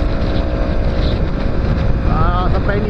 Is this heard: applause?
no